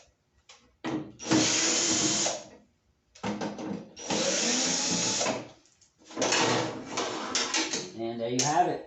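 A power drill backs screws out of an egress hatch door in three loud whirring bursts separated by short pauses, the motor close and steady, with a brief rattle at the end.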